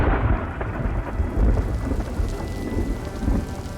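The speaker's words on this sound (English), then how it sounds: "The sky over Anazote splits apart, showering the dust-covered streets with long-awaited rain." Thunder rolls and heavy rain pour over the dust-covered streets of Anazote in The Life and Suffering of Sir Brante, a dense continuous downpour with deep rumbling swells, loud and alone.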